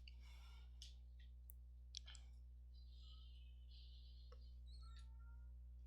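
Cats meowing indoors, heard as several faint, thin high cries and short chirps scattered over a steady low hum, with a few soft clicks between them.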